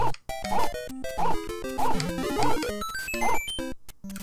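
Cartoonish dog barks in Super Mario Maker, a repeating series of short yapping bark sound effects at a steady beat set over bright, bouncy chiptune music, close and clear with no talk.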